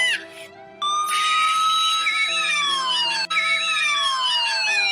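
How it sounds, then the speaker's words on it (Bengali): A cartoon police car siren wails loud and close, its rising and falling tones sweeping continuously with a brief dip near the end. "ওই দেখ, পুলিশের গাড়ি আসছে"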